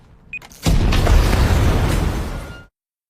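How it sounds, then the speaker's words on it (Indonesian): A house blows up in an action film, a loud, deep boom that bursts in after a brief lead-in and rumbles for about two seconds before cutting to silence. "Lalu dia pun meledakkan rumah yang ditempati Max."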